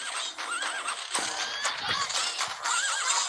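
A horse in the rhythm video game Pon Pon Patapon whinnies with a rising, wavering neigh, repeated twice amid bright game music and layered sound effects.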